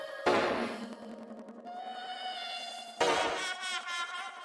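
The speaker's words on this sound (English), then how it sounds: "this is what this sound sounds like, called Bouncy Noise Piano" Two stabbed chords from a Bouncy Noise Piano synth in an FL Studio trap beat, each struck sharply and left to ring with a buzzy, bright sustain.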